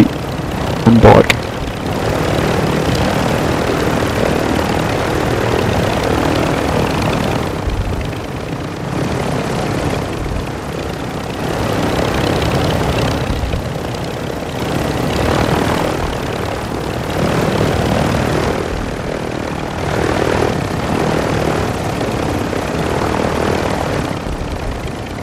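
A helicopter in the video game Call of Duty Modern Warfare II roars with a loud, steady rotor and engine drone that pulses throughout, while players talk over it.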